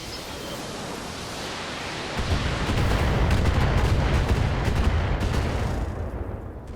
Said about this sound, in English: Long-range missiles depleted.